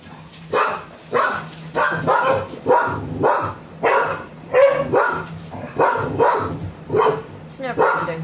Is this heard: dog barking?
yes